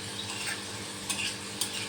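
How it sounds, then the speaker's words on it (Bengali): Drops of flour batter frying in hot oil for a flour-based payesh, a steady close sizzle with light stirring and a couple of brief utensil clicks, no voices. "এবার এগুলোকে ভাজা ভাজা করে নিতে হবে"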